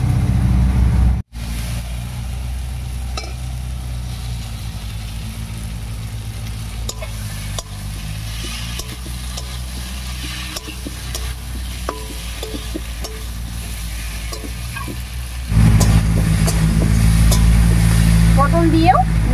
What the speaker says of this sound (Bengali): এবারে ভেজে রাখা পটল দেব।